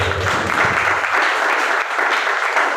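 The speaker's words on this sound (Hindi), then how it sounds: "एक बार जोरदार ताली से" A crowd at a wellness company seminar breaks into loud, dense applause, a steady wash of many hands clapping close by for the whole few seconds.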